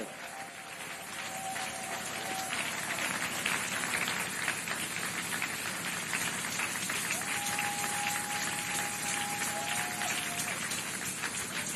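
A church congregation applauds and cheers at an intercession service to welcome Pastor R.J. Mbaya, a steady, dense wash of clapping filling the whole stretch, with faint sustained tones and voices mixed in.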